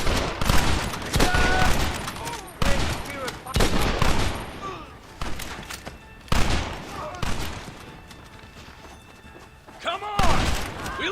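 A shootout in the Western game Red Dead Redemption, with loud bursts of rapid gunfire and sharp individual shots, pauses between volleys and ricochet whines, close by, with voices shouting in between.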